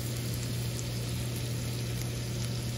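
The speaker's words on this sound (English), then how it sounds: "And you're gonna fry your squid in butter." Squid frying in butter in a hot pan gives a steady, even sizzle that holds at a constant level throughout, with no voices over it.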